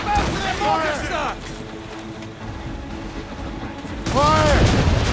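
Ship cannons firing during a naval battle in Assassin's Creed Rogue, heavy booming volleys near the start and again at the end, under shouted crew voices and a low rumbling background.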